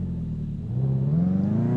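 A car in Car Mechanic Simulator 2018 revs up in a short burst, its engine tone rising smoothly as it accelerates, close and steady with no talking.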